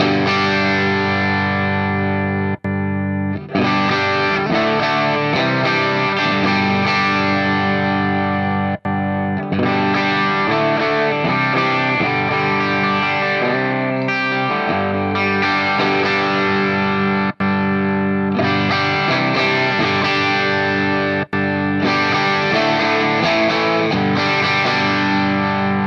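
Electric guitar run through a NUX Solid Studio IR loader and power amp sim pedal with the mic position adjusted, a steady, loud distorted tone of strummed chords and riffs with short breaks between phrases.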